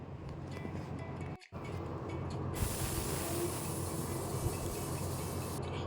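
A pressure cooker holding chickpeas for Kerala kadala curry lets out a loud burst of hissing steam that lasts about three seconds, after a quieter stretch of kitchen background.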